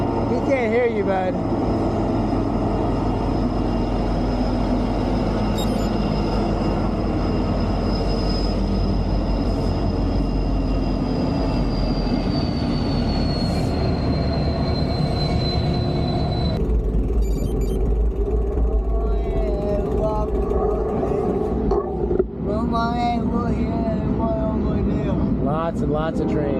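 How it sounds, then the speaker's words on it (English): Freight trains roll past in a steady, loud rumble with a long, drawn-out high whine from the wheels, and the sound shifts partway through as the trains keep moving through a busy rail corridor along the Great Allegheny Passage trail. "Lots and lots of trains."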